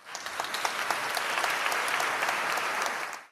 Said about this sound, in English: A little round of applause for Soman